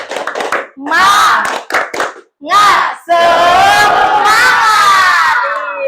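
Schoolchildren in a classroom doing a rhythmic spirit clap in quick bursts, then breaking into loud shouted cheering together, close and energetic.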